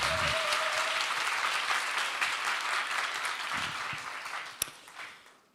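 An audience at a church summer retreat applauds to welcome a guest speaker, giving a dense, sustained round of clapping that fades toward the end with one sharp louder clap near the close, and no one speaks.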